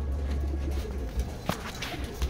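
Racing pigeons, young hens, arrive at their loft during South Derby training in Lucena, Quezon, giving soft low coos alongside scattered wing flaps and light knocks, close and without talk.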